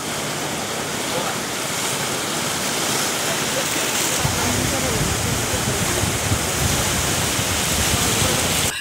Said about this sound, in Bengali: যেটা আপনি কল্পনা করতে পারবেন না যে এখানটার ঢেউগুলো কেমন